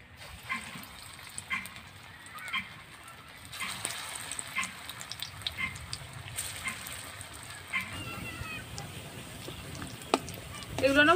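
Kakrol fritters sizzle gently in frying oil, a steady low crackle with occasional clinks and spatters, and a faint background voice or tonal sound drifting in toward the end.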